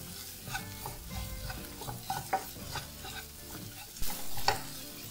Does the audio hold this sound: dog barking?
no